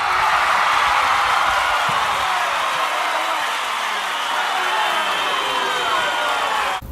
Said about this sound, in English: Crowd went wild.